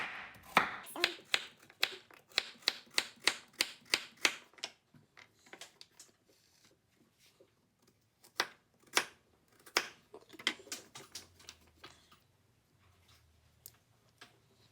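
A knife chops vegetables into half-inch rounds on a cutting board for beef stew, a close series of sharp rhythmic thuds in quick bursts with short pauses between runs.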